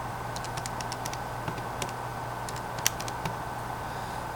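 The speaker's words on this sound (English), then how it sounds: "we plug this into our calculator" Calculator keys are tapped in a quick series of light, close clicks during a projectile motion calculation, with irregular gaps between presses over a steady background hum.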